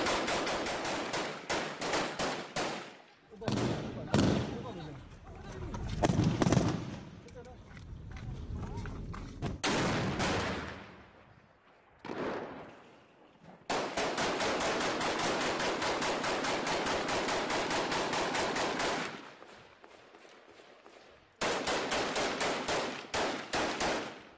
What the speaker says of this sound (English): The Kurds throw everything they have at the gunmen. IS return fire.